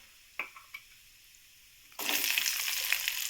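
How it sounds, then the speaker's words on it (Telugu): Urad dal hits hot oil already seasoned with cumin and mustard seeds, starting a sudden loud sizzle that crackles steadily after a few quiet taps at the start. "తర్వాత కొంచెం మినపప్పు కొంచెం వేగనియాలి."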